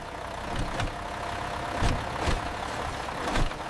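A large V8 race engine idles with a deep, uneven rumble, its low throb swelling in periodic lumps as if the cylinders are loping.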